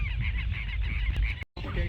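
Southern lapwings (teros) give loud, harsh repeated calls near a lake in Argentina, close and continuous over outdoor noise, with a brief cut near the end.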